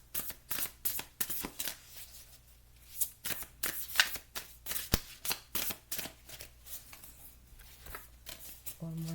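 Tarot cards riffle and slap together in quick repeated bursts of crisp shuffling, close and fairly loud, with brief pauses between passes.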